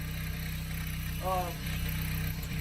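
A 2008 Dodge Caliber engine idling with a steady, low mid-pitched hum and slight vibration, close by and continuous, with a brief higher whine near the middle.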